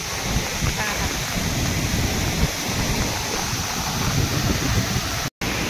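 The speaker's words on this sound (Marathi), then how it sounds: "पाऊस पण जोरात येतोय." Heavy rain falling outdoors at Bhandardara in rainy weather, a dense continuous roar of water and wind close to the microphone, steady throughout with a brief dropout near the end.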